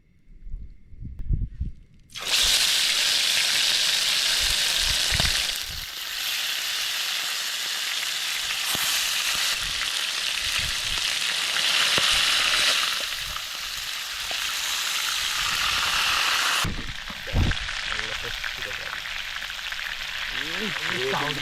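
Chicken pieces hit hot oil at a hillside campsite and set off a loud, steady sizzle and crackle that runs close up and unbroken for most of the clip, with a few knocks around the start.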